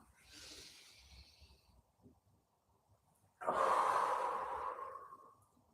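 A person breathing during a shoulder-blade stretching exercise, with a soft inhale near the start and then a louder, longer, airy exhale that trails off, close and quiet.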